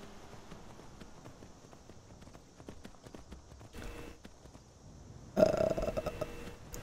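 Quiet, steady clip-clop of a horse trotting in the video game Skyrim, a rhythmic series of soft knocks that grows louder and busier near the end.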